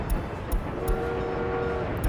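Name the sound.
train arriving in video game Workers & Resources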